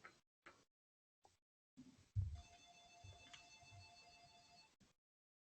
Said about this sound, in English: I think I hear a phone ringing.